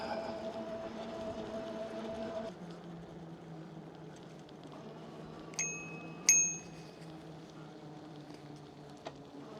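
A bicycle bell rings twice in quick succession on a wintry rail trail, bright metallic pings cutting over a steady low background rumble.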